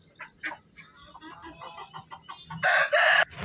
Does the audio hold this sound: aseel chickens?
yes